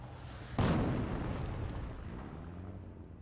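A mortar shell strikes in the World War II strategy game Company of Heroes, one sudden heavy blast that rumbles and fades slowly over a couple of seconds, alone with no voices.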